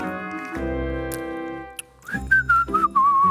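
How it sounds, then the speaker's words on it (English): A person whistles a tune in sustained, wavering pitched notes, close to the mic, with a short pause and a few clicks midway before the whistled melody resumes. "You got a whistle now."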